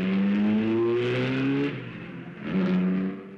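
Racing car engines at the 1957 Le Mans practice sessions, loud and close, with a sustained revving drone that rises in pitch, eases off, then climbs again, plus a faint whirring background.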